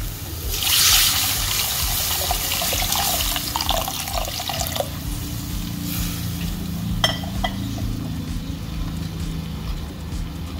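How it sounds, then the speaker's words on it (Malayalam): Water poured into a pan of sizzling sardine curry masala in coconut oil, a continuous close splashing and bubbling over low kitchen rumble, with a few faint clinks and no talk. "ഇനി നമുക്കിതിലേക്ക് വെള്ളം ഒഴിക്കാം."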